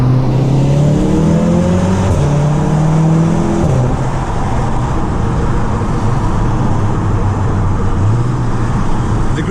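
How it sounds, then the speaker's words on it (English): Inside a Golf R driving at night with the window down, a steady rush of wind blends with the engine's droning note as it rises and settles through downshifts, loud and close, with no talking. "Sorry if you can hear the wind noise."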